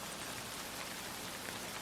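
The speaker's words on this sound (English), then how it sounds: "That something is rain." Steady rain falls at night in a dense, even hiss of drops on surfaces, constant and enveloping with no other sounds.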